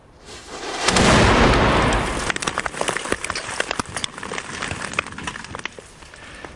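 A heavy German tank cannon blast booms loudly, followed by a long rumbling echo and crackling debris fading over several seconds.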